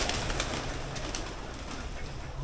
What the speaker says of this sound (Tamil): புறாவுக்கெல்லாம் சாப்பிட வச்சுருக்காங்க பாருங்கள்.